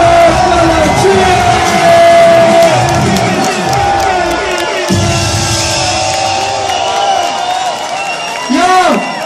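A crowd at a Romanian rap battle cheers, yells and whoops with some scattered clapping, loud and close, with voices rising and falling in waves throughout.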